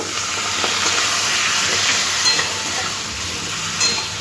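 Pumpkin stirred with spices in a pan: a continuous, even sizzle and hiss fills the clip, with a couple of faint scrapes of the spoon and no talking.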